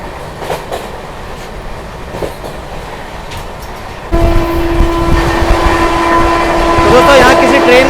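The Gondwana Express rumbles along its line, and partway through the roar jumps louder and denser as it overtakes an intercity train on the neighbouring track, with a tonal whine and a rattle of rails under steady wind noise.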